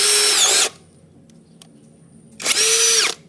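An APR AP34+ 13mm cordless impact drill runs in two loud, close whirring bursts with a high motor whine, separated by a quiet pause of about two seconds.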